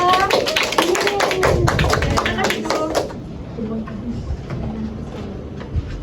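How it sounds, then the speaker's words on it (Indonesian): Students in a classroom clap together for a presenting group, a burst of dense applause in the first three seconds that fades into quieter room noise with a teacher's voice. "Tepuk tangan buat kelompok 2."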